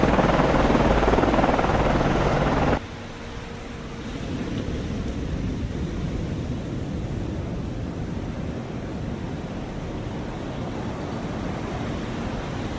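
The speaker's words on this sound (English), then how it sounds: "Con, FLYCO, aircraft transiting to point." Helicopter flying in the naval combat game Cold Waters, a loud broadband rotor roar that cuts off abruptly, then gives way to a quieter steady wash of wind and sea noise.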